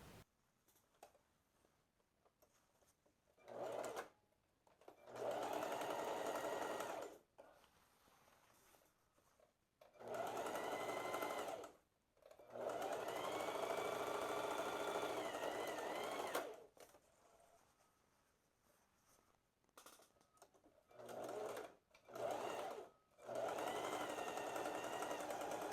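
A sewing machine stitches the side seams of wrap-style skirt-shorts in several separate bursts of steady motor whir, each a few seconds long, with short quiet pauses between runs.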